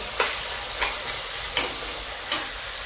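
Onion frying in hot oil for Hyderabadi dalcha rice, a steady close sizzle broken by four evenly spaced scraping stirs, with no voices.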